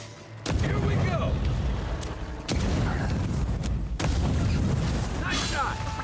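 Gunshots in the fantasy video game Avowed: several loud booming blasts at irregular intervals, each followed by a rumbling tail, with a steady background of game ambience and faint voices.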